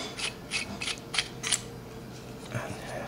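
A battery end cap is twisted off a 32-LED flashlight that holds three AAA batteries, giving a run of close, dry ratcheting clicks and scrapes from the threads in a quiet room.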